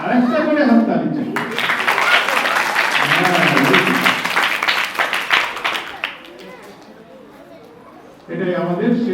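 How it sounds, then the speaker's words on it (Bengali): Audience applause after a dance performance at a cultural festival program, a dense burst of clapping rising sharply and sustained for several seconds before fading, with speech heard before and after. "আরেকটা করে হাততালি চাই"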